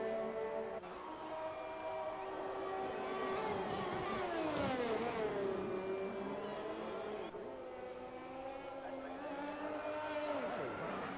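A race car in an online racing video game league round at Mexico, engine whining and rising in pitch as it revs and drifts, tire squeal mixed in, with a commentator talking over it.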